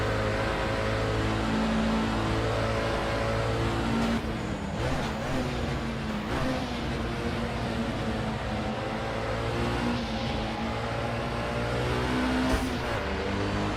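Steady engine drone of a racing sim car at Le Mans with a Porsche 904 on track, a sustained roar with slight shifts in pitch and brief gear-change dips, heard alone and fairly close.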